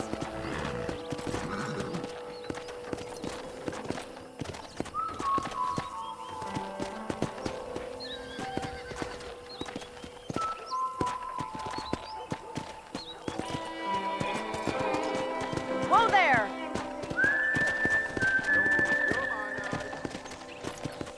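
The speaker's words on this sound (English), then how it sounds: "let's see if you can still ride a horse." A horse's hooves clip-clop steadily while ridden around a ranch in the video game Red Dead Redemption, with occasional neighs and whinnies, all under ongoing spoken dialogue and game ambience.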